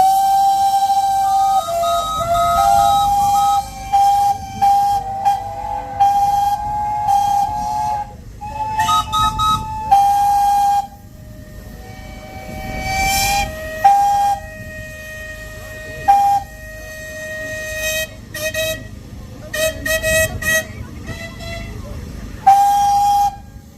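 A steam engine whistle at a steam show sounds in repeated loud, clear tonal blasts, some long and some short, with brief gaps and shifting pitch between them, over faint background crowd noise.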